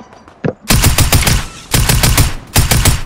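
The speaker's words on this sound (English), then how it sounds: "They're shooting each other." Players in Fortnite shooting each other, loud close bursts of rapid automatic gunfire in three clusters with brief gaps between them.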